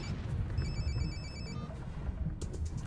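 A telephone rings in Sokolniki Park, Moscow, giving a fairly faint electronic trill that repeats a few times over low background rumble, with no one speaking.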